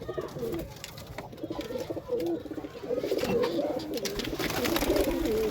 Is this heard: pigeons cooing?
yes